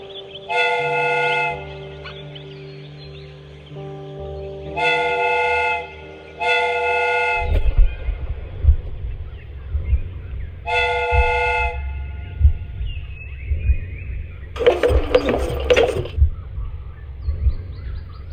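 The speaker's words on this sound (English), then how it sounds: "The steam whistle is ready to be used." Steam whistle of a replica train in Sherlock Holmes: Crimes and Punishments, several loud chord-like blasts in short bursts, followed by hissing steam, clanking and a rumbling engine.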